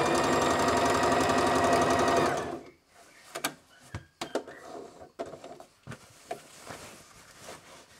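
A sewing machine stitches a trouser hem in a loud, steady run for about two seconds, then stops, followed by quiet clicks, fabric handling and small knocks close by.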